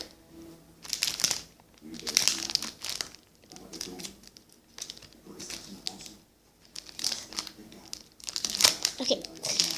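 Sticky tape crinkling and crackling on homemade squishy packaging in bursts of handling, with a voice speaking between the rustles.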